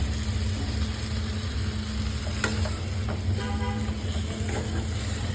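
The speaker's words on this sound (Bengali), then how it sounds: "এখন মানে মশলার সাথে বেশ ভাজা ভাজা হবে" Chicken sizzles in a pan with spices and lemon juice, a loud continuous frying hiss broken by brief scrapes and stirring.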